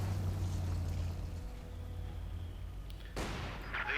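Maxim machine gun fire in the strategy game Company of Heroes 2, a low rattling burst mixed with rumbling battle noise and a sharper crack near the end, moderately loud with no talking.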